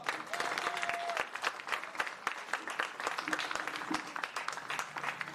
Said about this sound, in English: If we could have one more big round of applause for this accomplished group of seniors.